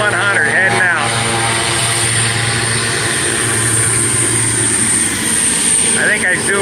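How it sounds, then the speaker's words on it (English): Firefighting air tanker aircraft Tanker 100 taxis out after being filled, its engines droning loudly and steadily throughout with a strong propeller hum, while a person talks over it. "They have filled the plane and are heading out."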